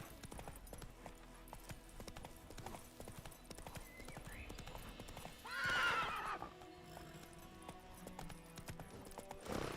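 The horse Roach in The Witcher 3 trots with steady clip-clopping hooves, then lets out a loud neigh midway before the hoofbeats carry on, with game ambience underneath.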